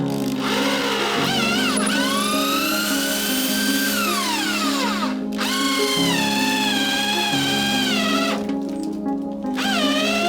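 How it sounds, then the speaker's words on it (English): A power drill with a wood bit bores steadily through an old timber beam into a new one, its motor whining loud and close, pitch dipping and rising as the bit bites and frees. "Wood bit, drill through the old beam into the new one"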